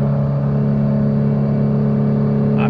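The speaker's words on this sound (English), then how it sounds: "So let's downshift it into second gear." Nissan R35 GT-R engine held at a steady, loud idle-like drone with strong low harmonics, a continuous close-miked cabin hum through the whole stretch and a brief whine near the end.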